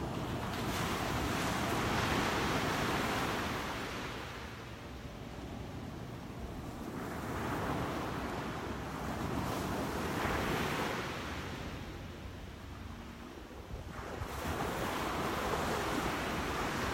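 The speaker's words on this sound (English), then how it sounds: "let's take a last minute here to look out at the water and listen to those waves a little" Ocean surf rolls onto a beach in long, loud swells that rise and fall every few seconds, with wind buffeting the microphone throughout and no voices.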